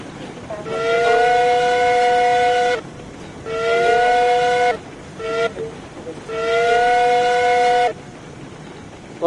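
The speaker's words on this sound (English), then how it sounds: "Bloody hell, that's a loud whistle." Loud train whistle in a video game, three long steady multi-tone blasts with a short chirp between the second and third, close and dominant over a low rumble.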